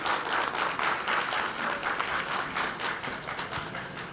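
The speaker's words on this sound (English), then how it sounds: "Kindly give big applause for all of them." An audience at a Hindu organisation conference in Bangkok applauds, a soft, distant wash of many hands clapping steadily throughout.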